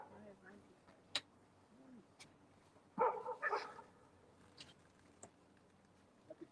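A dog barks a few times on a fishing boat, a short loud burst of yips in the middle with scattered thumps and knocks around it, somewhat distant.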